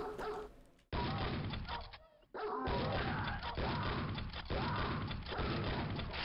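Dogs bark among grunting enemies in the Quake mod Zerstörer, Testament of the Destroyer, loud and dense with game effects, gunfire and mechanical noise over about five seconds after a brief drop.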